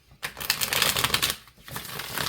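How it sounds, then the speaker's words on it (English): Tarot cards being shuffled close up, a quick riffling flutter with a brief pause before a second softer shuffle. "I need to shuffle."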